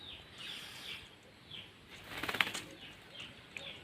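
Large eagle beating its wings outdoors, a series of soft whooshing flaps at moderate distance with a brief louder flurry midway, no voices.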